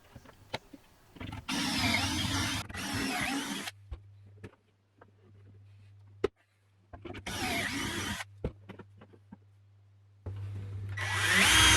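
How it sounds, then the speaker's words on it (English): Two bursts of high-pitched drilling of pocket holes in wood, each lasting a couple of seconds, separated by quiet gaps with a low hum, and a third burst starting at the end. "Now I can set about drilling the pocket holes into them."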